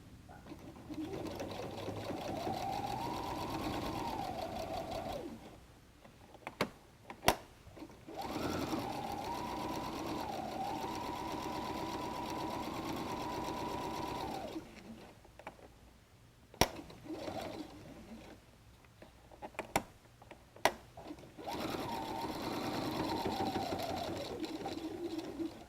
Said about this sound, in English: I want to baste across the bottom of the pocket